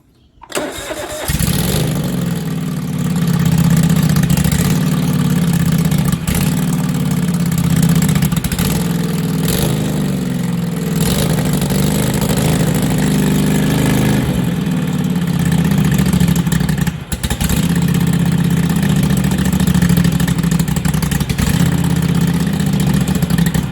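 A modified lawn tractor engine with an air leak at the manifold seal cranks and starts within the first second, then holds a loud, steady, rough idle close by for the rest of the clip, dipping briefly once.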